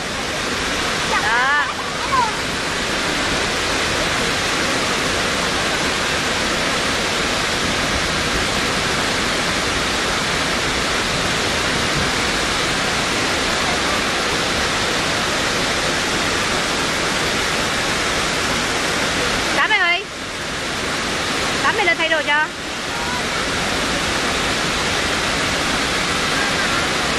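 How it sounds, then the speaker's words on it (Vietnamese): Dray Nur waterfall near Buon Ma Thuot in Vietnam's Central Highlands roars as a loud, constant broadband rush of falling water, with brief voices speaking over it a few times. "đây là thác hoàn toàn từ thiên nhiên nè, rất là đẹp luôn"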